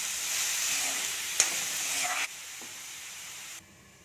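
Onions frying in oil in a pan for aloo paratha filling, a close steady sizzle and hiss that drops to a quieter simmer after a sharp clank, as if a lid goes on.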